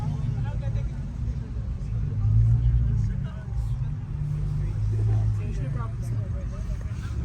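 Infiniti Q60 at a lively outdoor car meet, its engine a loud, steady rumble that swells and fades as it moves, with crowd voices talking over it.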